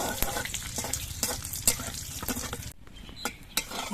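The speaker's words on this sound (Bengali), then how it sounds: "দুটো শুকনো লঙ্কা কয়েকটা গোটা গরম মশলা আর অল্প করে একটু গোটা দিয়ে এবার মশলাগুলো আমি কিছুক্ষণ ভেজে নেব" Dry red chillies and whole garam masala fry in oil with crackling, popping sizzle and frequent spoon scrapes against the pot, close and busy, briefly dipping quieter before the spatters resume.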